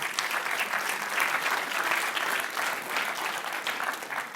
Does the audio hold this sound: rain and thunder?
no